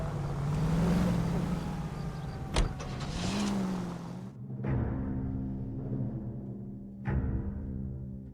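Car engine in the video game L.A. Noire, a steady low drone running throughout with a few sharp transient thumps, heard alone without talk.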